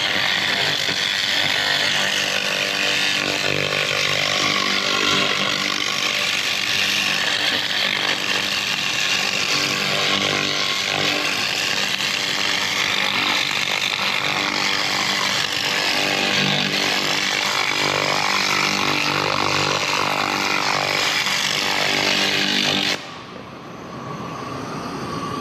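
A 2000W fiber laser cleaning machine strips rust from a cracked, welded metal rim, producing a steady, loud, dense buzzing hiss with tonal hum that runs continuously before cutting out near the end.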